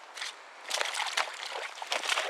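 Aku Pilgrim Gore-Tex boots wading through fairly deep water, giving a few soft, irregular sloshing splashes from steps close by, fairly quiet with no voices.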